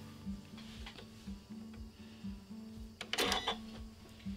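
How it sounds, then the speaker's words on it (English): A sewing machine sews a quarter-inch seam on a fabric face mask, giving a fast, regular ticking stitch rhythm at low volume, with a brief louder rustle of handled fabric near the end. "you're going to go ahead and sew a seam from the top to the bottom, a quarter inch all the way down"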